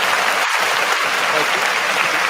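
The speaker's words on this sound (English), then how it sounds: "Hand claps." Dense hand-clap applause used as a sound effect on a podcast, a steady burst of many clapping hands that fills the whole moment with no talk over it.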